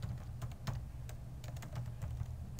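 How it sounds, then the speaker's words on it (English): Someone types rapidly on a computer keyboard, a steady patter of light clicks close by with no voices. "and then type in control panel"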